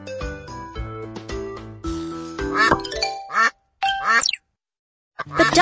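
A cartoon duck in a Baby Panda kids' video game gives a few short, bright quacks over cheerful, jingly background music, with gaps of silence between the later calls.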